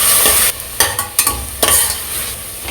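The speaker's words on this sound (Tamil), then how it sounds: "இப்போ இதை கொஞ்சம் இதோடு சேர்த்து நல்லா கலந்து விட்டுக்கலாம்." Onion, chilli and mint-coriander ginger-garlic paste are stirred in a hot pan, with a steady sizzle broken by several close, scraping spatula strokes.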